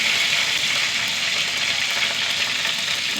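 Mustard seeds, cumin and dried chillies sizzling in hot coconut oil in a pan, a steady, loud, even hiss with fine crackle throughout, close up and uninterrupted.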